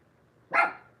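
A single dog bark, one short sharp burst close by, rising fast and trailing off over half a second against a quiet background.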